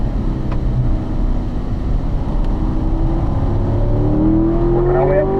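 A race car's engine drones loud and steady from inside the cockpit, pitch climbing smoothly as it accelerates through the gears, with constant road and wind rumble underneath.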